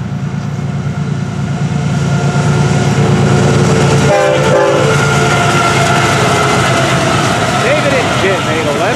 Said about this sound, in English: It's the hot train.